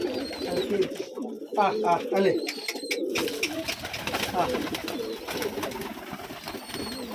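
Pigeons coo repeatedly in a loft, their low throaty calls layered and close, while someone talks over them in Bengali and the birds shuffle and flutter nearby.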